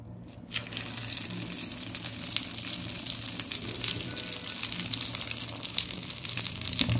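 A slice of eggplant fries in hot oil in a pan, a steady close sizzle and crackle that holds constant with no talking.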